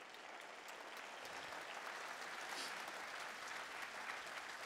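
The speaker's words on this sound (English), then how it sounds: "Give them a nice round of applause." Steady, dense applause from an audience at a holiday show band concert, even and sustained throughout with no voices standing out.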